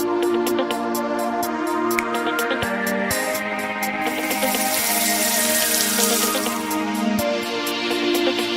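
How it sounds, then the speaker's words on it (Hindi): Mutton liver is rinsed under a running kitchen tap, giving a continuous loud rush of water with wet splashing and squishing as the pieces are handled. "कलेजी कढ़ाई बनाने के लिए सबसे पहले हम कलेजी को अच्छी तरह से वॉश करेंगे।"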